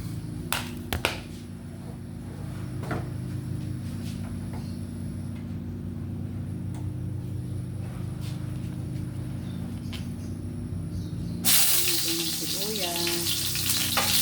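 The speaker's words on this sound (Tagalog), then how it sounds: "magigisa na tayo ng ating chop suey, gulay na chop suey" Vegetable chop suey sautés in a pan with a steady close sizzle, broken by a few sharp clicks and clinks of a utensil, and a brighter hiss near the end as more goes in; no speech.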